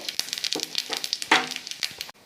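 Whole cumin seeds crackle in hot oil in a kadai alongside bay leaves and dried red chillies, with quick sharp pops and sizzles spattering close by in an uneven rhythm.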